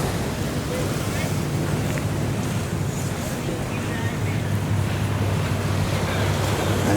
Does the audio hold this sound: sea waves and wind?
yes